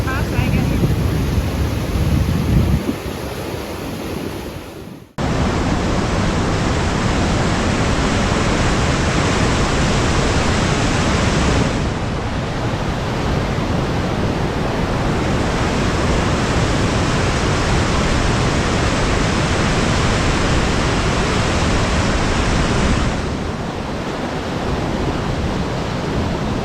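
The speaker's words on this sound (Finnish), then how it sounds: "käytiin katsoa vesiputousta, mikä oli hieno" A waterfall on a summer hike on the Three Nations trek pours as a steady, loud broadband rush that runs continuously, with a brief dip and shift in tone partway through, and no voices over it.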